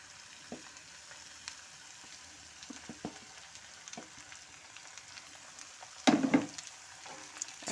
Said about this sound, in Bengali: এখন আমি সমস্ত কিছুর সাথে নেড়ে নিচ্ছি